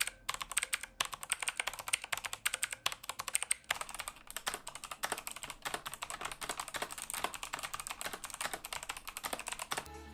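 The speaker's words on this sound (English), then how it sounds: "they use a click bar to generate that super satisfying noise" Steady fast typing on a cheap RGB mechanical keyboard with clicky click-bar switches, a dense run of sharp close clacks that carries on throughout, with no voices.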